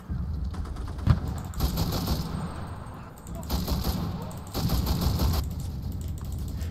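Bursts of machine gun fire in the World War II shooter game Enlisted, several rapid rattling volleys separated by short pauses, loud and close, with faint background game noise between bursts.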